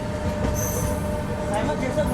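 Inside the Shalimar to Vizag express as it runs, a steady loud rumble of wheels on rails carries through the carriage, with faint high squealing above it.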